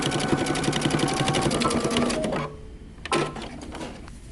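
A sewing machine top stitching a dress neckband from Simplicity pattern 8123 runs in a fast, steady whir for about two seconds, stops, then gives one brief burst of stitching. It is close and loud, with no voices.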